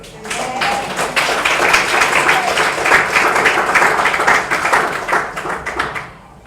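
A Sunday worship congregation breaks into loud, sustained applause, many hands clapping densely together for several seconds before fading out.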